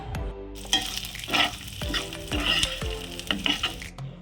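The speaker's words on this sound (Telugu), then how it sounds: "పచ్చిమిరపకాయలు కూడా వేగిన తర్వాత నువ్వులు వేసి వేయించుకుందాం" Peanuts, green chilies and sesame seeds fry in a pan for a tamarind-leaf peanut chutney with a loud, close sizzle. Repeated sharp scraping stir strokes fall every half second or so, with no talking.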